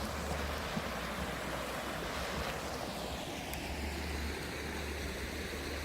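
Creek water rushes and churns in a steady, unbroken wash outdoors, with a breezy hiss and no voices over it.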